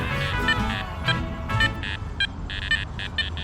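Metal detector target signal tone from a Nokta Makro Anfibio Multi or Garrett Apex while hunting in a park, a series of repeated bright electronic beeps in irregular bursts over steady background noise.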